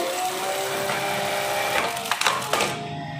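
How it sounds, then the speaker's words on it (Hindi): JUKI LBH-781 manual buttonhole sewing machine running as it stitches a buttonhole, a steady mechanical whir with a few sharp clacks near the end before it stops, close by. "ये बटन होल मशीन होती है, जो कि बटन का होल करने के लिए इस्तेमाल होती है।"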